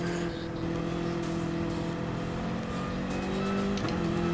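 Race car engine from GT Sport on a gentle outlap, a steady close drone held at moderate revs with a brief shift near the end, faint tyre noise and no talking.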